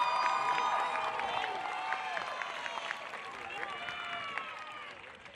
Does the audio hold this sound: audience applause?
yes